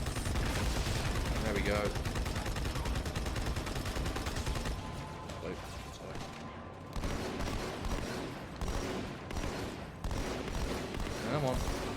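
Rapid turret gunfire in Halo 2 Anniversary, dense bursts of automatic shots and explosions that ease briefly then resume, with someone talking briefly over it.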